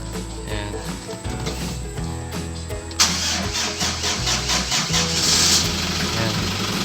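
A Hyundai Grand Starex diesel engine cranks and catches partway through, then settles into a loud, close, clattering idle.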